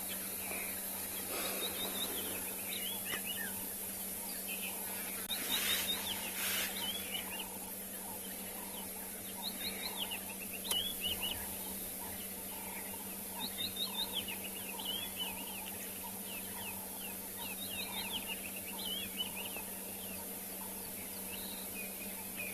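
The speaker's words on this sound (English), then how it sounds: "You can hear the lovely birds." Birds call at dawn on a Kalahari sunrise safari: scattered chirps and short whistled phrases sound at moderate distance over a steady hiss and low hum, with brief louder bursts now and then and no voices.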